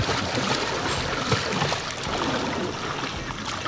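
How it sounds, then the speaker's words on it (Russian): A boat motor runs steadily on the water in Sierra Leone, a constant broadband drone with splashing and rushing water mixed in, close by and unbroken throughout. "Мотор включил. Включил мотор."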